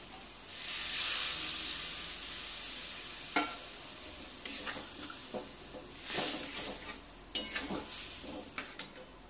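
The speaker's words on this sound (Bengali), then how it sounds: "এবার আমি সামান্য পরিমাণে একটু জল দিয়ে দিচ্ছি।" A small-fish curry cooking in a pan hisses and sizzles as a little water is added, followed by quieter bubbling and a few sharp clicks from utensils against the pan.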